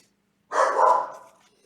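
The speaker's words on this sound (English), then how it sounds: "that was a mean dog bark" A single sharp dog bark sounds out nearby in an otherwise quiet indoor room and tails off quickly.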